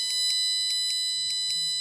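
A buzzer on an Arduino Uno board sounds as an alarm, giving a steady run of evenly spaced shrill electronic beeps, loud and close, with no voices.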